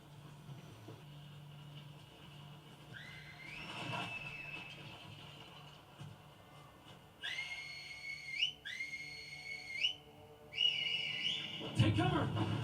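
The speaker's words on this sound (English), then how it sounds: "Teach you to whistle." Clear whistled notes rising and sliding in short repeated phrases, moderately close, over a low background rumble, ending in a louder noisy burst.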